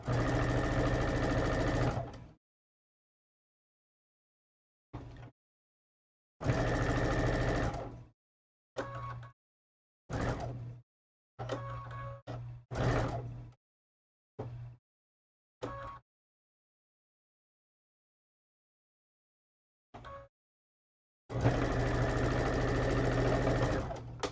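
Quilting sewing machine stitching seams, running in several bursts of varying length separated by silent pauses while the fabric is pivoted, loud and close with no talk.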